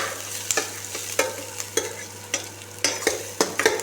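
Garlic and onion sizzle in hot oil in a small bachelor-room kitchen, with a dozen or so sharp scraping clinks of a spoon stirring against the pan over a soft, steady frying hiss.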